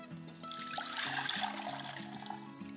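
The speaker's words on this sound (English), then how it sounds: "you're going to want to pour the water into a glass pitcher or glass measuring cup through" Coconut water pours through a strainer into a glass pitcher, giving a soft, continuous trickling and splashing stream that swells slightly in the middle before easing, with faint tonal ringing from the glass.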